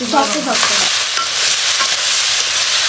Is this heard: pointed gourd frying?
yes